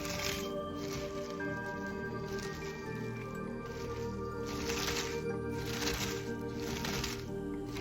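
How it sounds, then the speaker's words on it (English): Hands massaging and squishing shredded cabbage in a bowl, a steady wet crunching and rustling with rhythmic swells of squelching, close and soft against faint background music. "We're just going to fold it, massage it until the cabbage walls break down and release that beautiful liquid that we want."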